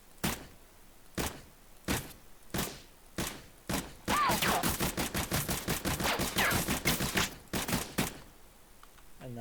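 Gunfire at a shooting range in an Unreal Engine 4 first-person shooter: evenly spaced single shots, then a fast burst of rapid automatic fire, then more single shots. Loud and close, with no voices.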